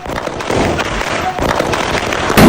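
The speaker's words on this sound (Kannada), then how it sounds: "ದೀಪಾವಳಿ ಹಬ್ಬದ ದಿನ ಎಲ್ಲರೂ ಸಂಭ್ರಮದಿಂದ ಸಡಗರದಿಂದ ಹಚ್ಚುವಂಥದ್ದು ಡಮ್ ಅಂತ ಶಬ್ದ ಬರುತ್ತೆ" Diwali firecracker bangs in a Kannada comedy skit, a dense run of sharp crackling bursts and pops ending in a louder close blast.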